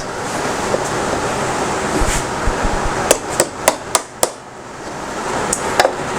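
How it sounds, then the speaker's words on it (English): Sharp metallic taps of snipper pliers used as a hammer while assembling a folding picnic napkin holder, a handful of close, distinct strikes in an irregular rhythm over faint background noise. "When all else fails, use your snipper pliers as a hammer."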